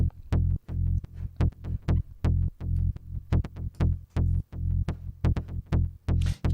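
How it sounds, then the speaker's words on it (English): A heavy bass line is rhythmically ducked by LFO Tool sidechain processing, each low note swelling and cutting off in a fast regular pump, paired with sharp kick hits. "Rather than side chain the whole signal like a plugin called"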